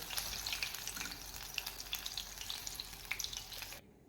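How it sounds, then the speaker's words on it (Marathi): Paneer pakoras frying in hot oil give a steady, close crackling sizzle with bright popping bursts throughout, cutting off abruptly near the end. "फ्राय करून घेणार आहोत आपले पकोडे फ्राय झालेले आहेत"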